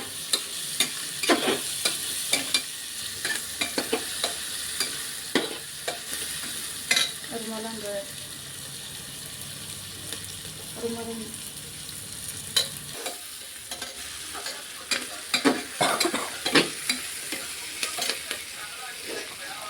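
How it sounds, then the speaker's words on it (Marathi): Chopped onion sautéing in a hot pan for khichdi, with a soft steady sizzle broken by repeated scraping and clinking stirs that come in irregular bursts, close and clear, with no voices. "त्यानंतर आपण कांदा टाकलेला आहे, आता तो परतून घ्यायचा आहे."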